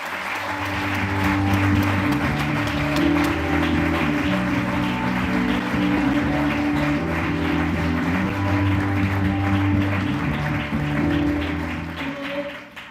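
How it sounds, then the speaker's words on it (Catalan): Sustained applause from a crowd at a 2023 election campaign launch rally in Aran, a dense steady wash of clapping lasting over twelve seconds, with music playing beneath it before it fades at the end. "Un fort aplaudiment, Maria"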